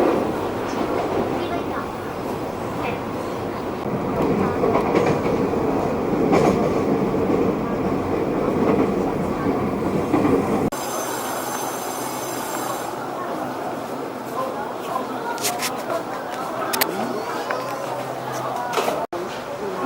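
A Hello Kitty-themed train between Shulin and Taipei rumbles steadily along the rails with rattling and squealing wheels, while people talk intermittently nearby.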